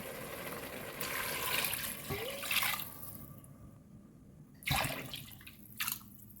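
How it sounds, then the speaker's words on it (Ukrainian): Water poured into a pressure cooker with pork pieces and potatoes for borscht, a steady splashing pour with drips, fairly close, then stopping and trickling briefly, with no talk. "Наливаємо воду."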